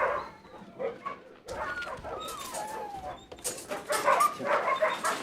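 A puppy whimpers and yips in thin, high whines, with a rising-and-falling whimper in the middle and a busier burst of yelps near the end, fairly close and without talk.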